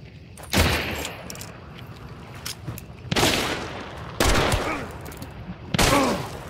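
Gunshots fired through a wall in Hunt: Showdown, four loud separate blasts spaced a second or more apart, each with a sharp crack and a rumbling tail, over low background game noise.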